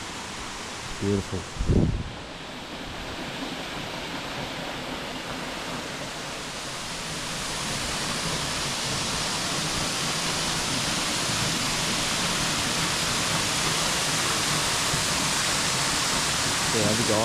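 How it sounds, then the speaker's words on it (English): Russell Falls in Mount Field National Park cascades in a broad, steady rush of water that swells louder partway through and stays constant, with a brief spoken remark near the start. "This is where Russell Falls pretty much starts cascading down."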